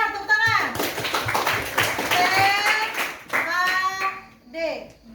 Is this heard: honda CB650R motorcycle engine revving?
no